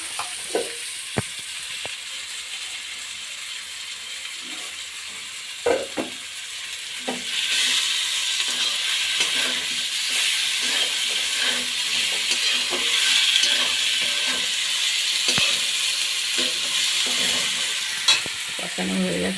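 Fish fries in hot oil in a wok for fish curry, a continuous loud sizzle that swells midway, broken by scattered stirring clatters and taps, with no voices.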